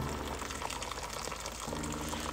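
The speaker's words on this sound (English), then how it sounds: "I'm just adding it right now, just enough water to cover." Water pours steadily from a kettle into a pot of chicken for birria, a continuous close splashing and gurgling fill with no talk.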